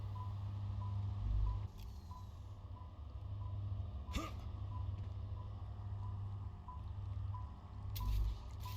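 Steady, evenly spaced beeping from machinery in the video game StarRupture, a thin repeating tone over a constant low mechanical hum, with a few brief clunks and a louder burst near the end.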